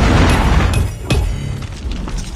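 Predator missile strike in Call of Duty Mobile: a loud, rumbling explosion boom with debris crackle, sustained low roar fading over a couple of seconds, with a second thud midway.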